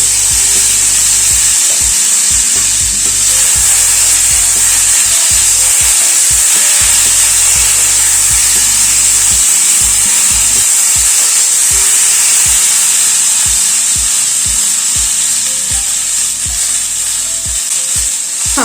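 Tomatoes fry with spices in a pan on a Bengali home stove for a potato and tomato curry with fish roe. A loud, steady sizzle is broken by rhythmic scraping and clacking of a stirring spoon, with no talking.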